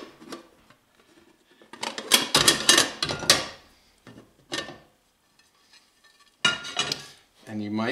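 A pan-fried cabbage pie is turned out of its pan onto a plate, with bursts of metal and dish clatter, scraping and clinks separated by quiet gaps, and a brief voice near the end.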